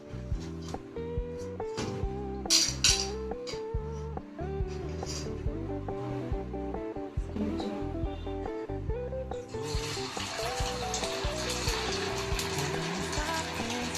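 Cauliflower pieces going into hot, well-heated frying oil for cauliflower 65, with a broad, steady sizzle starting partway through and continuing to the end beneath ongoing background music.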